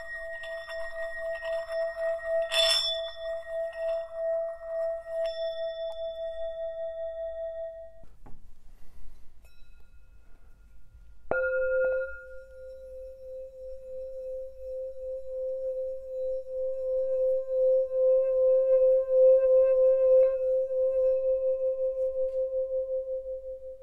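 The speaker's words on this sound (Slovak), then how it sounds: "Potom je ešte rozdiel v tom, ako misy hrajú pri trení, pri krúžení." A small 9 cm singing bowl rubbed around its rim with a wooden stick gives a sustained, pure ringing tone that swells and holds, fades out, then resumes with a sharp strike and a long, steady hum, heard alone.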